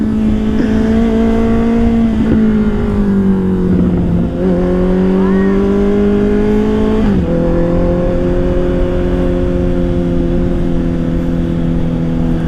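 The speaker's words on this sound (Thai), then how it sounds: "ท่อดังจริงเลยเพื่อน" A taxi engine drones loudly and steadily through a raucous exhaust, the pitch wavering slightly as it cruises at a constant moderate speed of about 50 to 60, close by.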